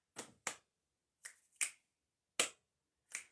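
Six sharp finger snaps with uneven gaps, crisp and close, alone in a quiet room.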